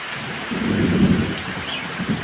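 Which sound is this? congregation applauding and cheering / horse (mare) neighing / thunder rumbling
thunder rumbling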